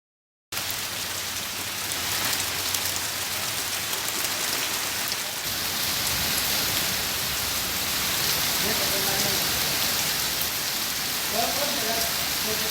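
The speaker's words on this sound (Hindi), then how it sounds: "ग्रामीण क्षेत्रों के कई इलाकों में आज काफी देर तक बारिश हुई।" Steady rain falls over a rural area, a dense even hiss of drops on surfaces that carries on without a break.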